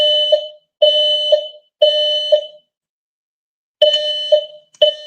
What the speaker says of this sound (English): as soon as this thing stops beeping